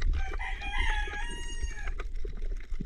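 A rooster crows in a long, loud drawn-out call, with faint background noise and another distant crow starting near the end.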